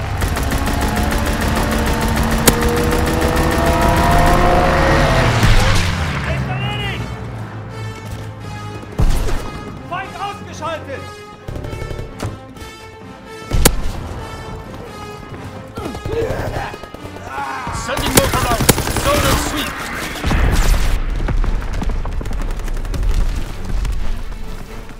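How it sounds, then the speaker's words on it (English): Aircraft strafing run in the Call of Duty: WWII video game, with scattered booms and bursts of gunfire cutting through a dense, continuous rumble of battle noise. "Strafing run inbound."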